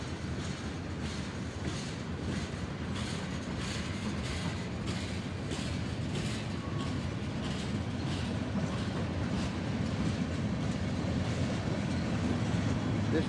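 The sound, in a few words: southbound train passing a road crossing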